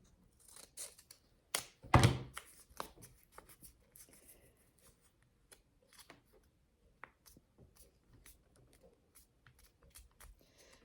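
Scissors cut through folded paper for a Christmas caroler craft. Close, crisp snips and rustles come in short irregular bursts, loudest near the start, then trail off into faint paper handling in a quiet room.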